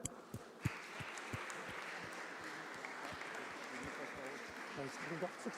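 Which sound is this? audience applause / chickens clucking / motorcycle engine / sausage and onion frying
audience applause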